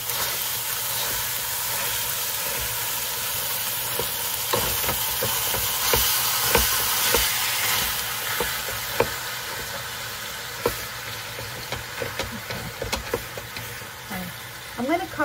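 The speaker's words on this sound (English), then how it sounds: "While the meat is cooking" Meat sizzling steadily in a pan seasoned with onion powder and garlic powder, a constant frying hiss broken by occasional stirring clicks and scrapes, with brief sharper pops near the end.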